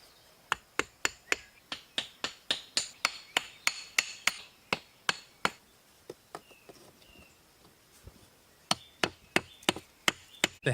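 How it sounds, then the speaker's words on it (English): A hammer taps small chinking stones into the gaps of a boulder stone wall in a forest, sharp distinct strikes in quick irregular bursts of about thirty, close and clear with faint birds behind. "Tapping smaller chinking stones into the gaps locks the larger boulders in place."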